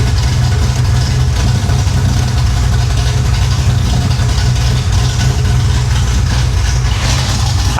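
A rowdy 560hp engine in a rebuilt, once-flooded Chevrolet Impala idling loudly and close, a dense continuous rumble with a lumpy low throb and no voices.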